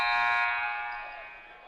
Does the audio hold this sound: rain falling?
no